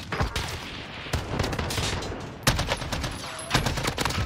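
Close assault rifle fire in Call of Duty Warzone, repeated sharp bursts of shots cracking at an irregular rhythm with several louder volleys standing out.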